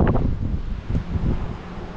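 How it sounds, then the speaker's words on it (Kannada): Strong, cold wind blows at night, a steady loud rushing roar buffeting the microphone with gusts that swell and ease, heard alone without speech. "ನೋಡ್ರಿ ನೀವು ಎಷ್ಟು ಫುಲ್ ಥಂಡು ಗಾಳಿ ಬರತೈತಿ."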